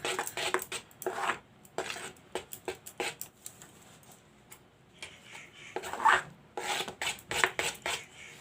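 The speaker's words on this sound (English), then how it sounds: "Mix it well till the batter gets mixed up with the butter." Cake batter being mixed with butter in a bowl, heard as a steady run of close, rhythmic scraping strokes that pause briefly midway and then pick up again, with no talking.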